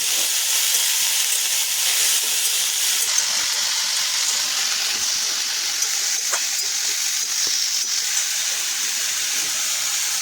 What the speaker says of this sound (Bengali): আমি সব আলুগুলো এবার দিয়ে দিলাম, দিয়ে এটাকে ভালো করে ভাজবো।